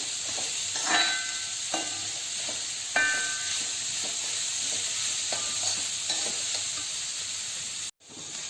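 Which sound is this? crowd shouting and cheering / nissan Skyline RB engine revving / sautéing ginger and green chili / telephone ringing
sautéing ginger and green chili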